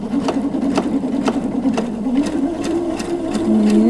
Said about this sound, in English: I'm just going to sew, and I am going to backstitch this time.